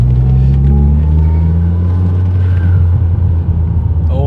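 A Toyota MR2 engine accelerates hard on the road, a loud, heavy low rumble that holds steady from start to finish, no voices over it.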